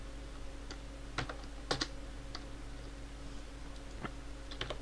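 Sparse, fairly faint keystrokes on a computer keyboard during a programming lesson, with irregular single clicks and short clusters over a steady low hum, no talking.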